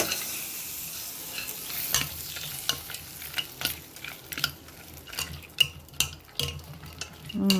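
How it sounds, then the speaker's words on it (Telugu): Food being stirred and mixed in a hot pan, with a continuous sizzle of frying under many irregular scrapes and taps of a spoon against the metal, close and steady throughout. "ఇప్పుడు దాన్ని బాగా కలుపుకోవాలి. మొత్తం కలిసిపోవాలన్నమాట. బాగా కలపాలి."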